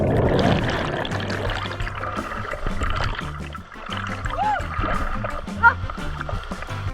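Paddles splash as a raft or canoe is rowed across the water toward a cave near Tuguegarao in Cagayan Valley. The splashing is steady and close, under people talking and music.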